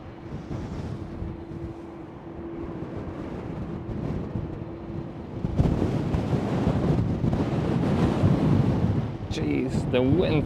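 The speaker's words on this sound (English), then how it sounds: "Jeez, the wind today, it's insane." Strong, gusty wind roars at Schiphol airport in Amsterdam, buffeting the microphone with a continuous rumbling rush that grows heavier partway through, and a voice comes in near the end.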